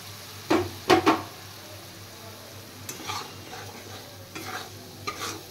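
A paste of melon seeds and poppy seeds frying in a pan for bhindi bahar, with a couple of loud scraping stirs near the start, then soft sizzling and lighter stirring strokes continuing steadily.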